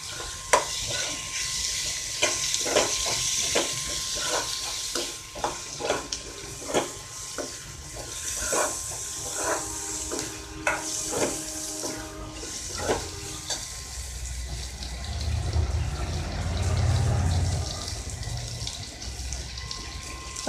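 Tomatoes go into a hot pan over ginger-garlic paste for a kanava (squid) fish thokku, bringing close, steady sizzling and frying with stirring scrapes and clatters, then a low bubbling rumble near the end.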